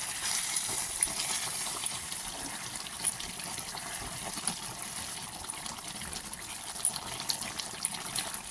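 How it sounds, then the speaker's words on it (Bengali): A faint, steady trickle of water runs into a pot of chicken kosha for several seconds, a soft continuous pour with small splashes and no voices. "এই 1 কাপের মতো জল দিব, বেশি জল দিব না।"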